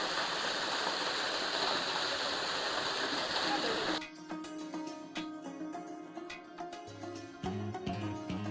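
An Apsarakonda waterfall pours at full force in a loud, steady broadband roar for about four seconds, then the scene cuts abruptly to a much quieter setting with faint tonal sounds.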